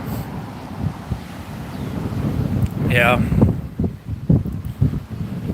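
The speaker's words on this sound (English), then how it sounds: "it is windy" Wind blows outdoors, buffeting the microphone in uneven low rumbling gusts, while a person says a brief word partway through.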